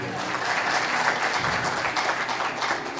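A congregation at a religious sermon claps loudly together, a continuous dense crackle of many hands that holds at an even level from start to finish.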